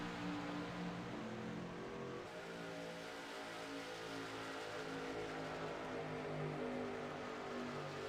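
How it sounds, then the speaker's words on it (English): Race cars roar at a green flag start, a dense blend of engines holding a steady, continuous drone, heard from some distance throughout. "David Shutt, Tyler Ducharme hit the loud pedal at the same time"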